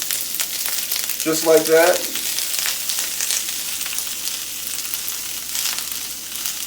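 Fresh ramen noodles laid into a hot pan for yaki-style cooking give off a loud, steady hiss of frying that carries on throughout, with a short spoken remark early on.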